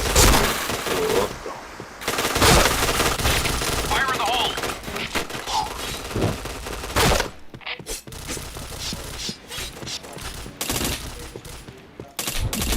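Rapid bursts of automatic gunfire and shots from the online shooter game PointBlank, loud and dense, with short pauses between volleys and a voice talking over the action.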